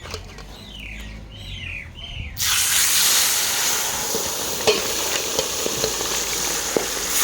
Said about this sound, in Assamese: এতিয়া তেলখিনি গৰম কৰি লৈছোঁ